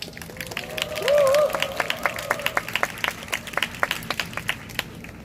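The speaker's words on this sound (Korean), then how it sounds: "큰 박수 부탁드립니다." An audience at a university rally applauds as a speaker is welcomed. Scattered, distinct claps rise and fall in a loose rhythm, with a brief cheer or whistle early on.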